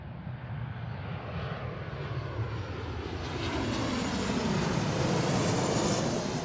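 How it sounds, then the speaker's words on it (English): An airliner arriving from Fairbanks lands overhead at Seattle-Tacoma airport, a loud, steady broadband jet roar that swells toward the end as it passes close above. "that flight that just landed overhead was from Fairbanks"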